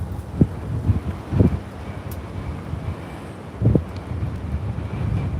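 Strong wind at an airport buffets the microphone in irregular low gusts and thumps, moderately loud and with no voices over it.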